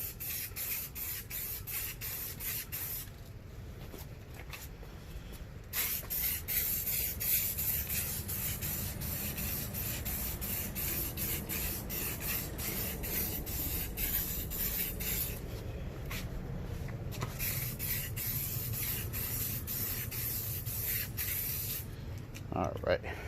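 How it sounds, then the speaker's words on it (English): An aerosol can sprays primer onto a Honda K20 engine case in bursts, a close hiss that stops and restarts several times, with short gaps and clicks between coats. "Don't want to hit it with too much primer."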